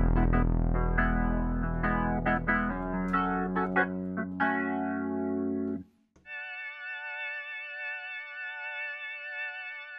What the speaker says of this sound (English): This is the same Farfisa sound that you heard before